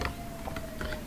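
Someone taps out a short command on a computer keyboard: a few quick, light key clicks close by over a faint steady background hum.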